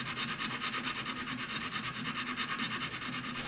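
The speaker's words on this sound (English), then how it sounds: "just filing all that extra off" Steady back-and-forth rasping of a hand file taking excess metal off a wire inlay, close and even in rhythm with about five strokes a second, with no talking.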